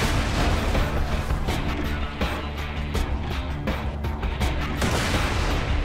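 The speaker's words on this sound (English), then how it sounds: "The homing grenade?" Rapid bursts of gunfire and booming blasts from a homing grenade in Borderlands 2 fill the whole span as a loud, dense, continuous barrage with repeated sharp hits.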